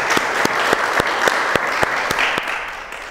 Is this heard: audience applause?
yes